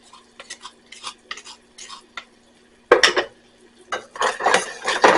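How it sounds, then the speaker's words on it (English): Garlic goes into a pan of sauce on the stovetop, with light clinks of a spoon against the pan at first, then a louder burst of stirring and scraping over a soft sizzle. "last we're going to add in the garlic"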